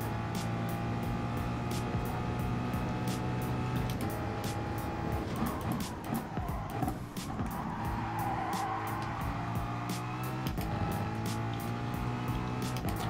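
A Ford Mustang race car in Gran Turismo Sport roars loudly and continuously, engine revving up and down through gear changes with tire squeal in the middle stretch.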